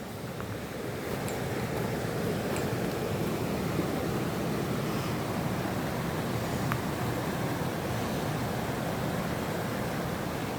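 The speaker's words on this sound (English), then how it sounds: "First, let's have a look at the Cascades." Water rushes over rainforest cascades in a steady, unbroken roar that stays loud and constant throughout.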